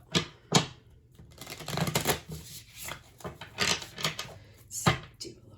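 A deck of tarot cards shuffled briskly at close range, producing dense bursts of papery slapping and riffling clatter that rise and fall in quick uneven clusters.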